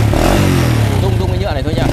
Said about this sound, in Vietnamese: Đây anh em nghe máy này để thấy. Trông thế thôi nhưng mà máy móc vẫn rất là ok.